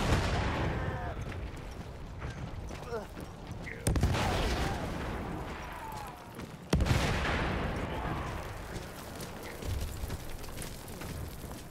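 Machine guns rattle in sustained, dense fire amid a Battlefield 1 battle, with booming impacts and distant rumble layered underneath, loud and continuous throughout.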